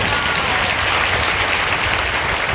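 A congregation applauds, clapping for the Lord during a Hindi sermon about Jesus and Barabbas, a loud, dense, continuous roar of clapping with no break.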